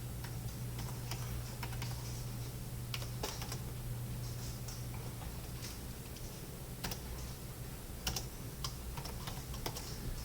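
Typing on a computer keyboard while writing code, a quiet run of rapid irregular key clicks with occasional sharper taps, close up over a low background hum.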